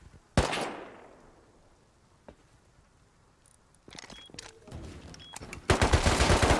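Gunfire in the survival video game Rust: a loud shot with a fading echo, then bursts of rapid automatic fire that build to a dense volley near the end.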